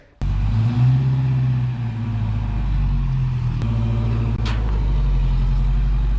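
A 1967 Toyota Stout pickup truck starts and runs on a test drive after suspension and brake repairs, its engine a loud, close, steady rumbling drone with slight shifts in pitch and a few clunks.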